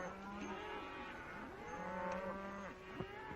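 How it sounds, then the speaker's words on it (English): A herd of cattle moos in an open range setting from an old 1937 Western, several overlapping low drawn-out calls from different animals, moderately near over a steady background hiss. "Just looking over the cattle."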